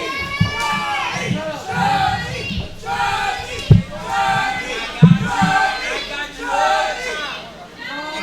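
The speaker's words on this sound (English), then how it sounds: "Hear the whole crowd just chanting for Johnny Rodriguez" A wrestling arena crowd chants for Johnny Rodriguez in rhythmic, drawn-out, sung phrases repeated many times, loud and full, with a few sharp thuds cutting through.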